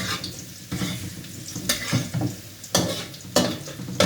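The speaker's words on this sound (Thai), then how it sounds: "เจียวกระเทียมให้เหลืองก่อนนะครับผม" Garlic frying in a pan until golden for crab fried rice, a steady sizzle with repeated scraping stirs and clinks of a utensil against the pan, close and fairly loud, no talk.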